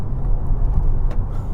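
Large car cornering smoothly, a low steady road and engine rumble heard from close by with no talking.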